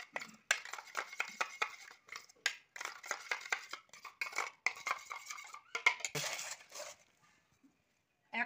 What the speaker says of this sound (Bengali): দইটা ফাটিয়ে নেব।